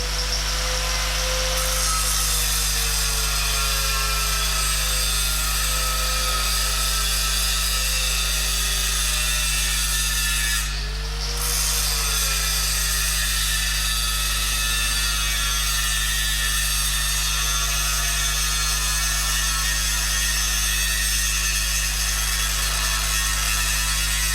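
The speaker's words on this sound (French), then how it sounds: "On exécute tout d'abord une saignée avec une meule fine si nécessaire." A fine grinding wheel cutting a groove in metal to prepare a weld joint, a loud, steady high-pitched grinding whine with a constant low machine hum, sustained throughout with one brief dip partway.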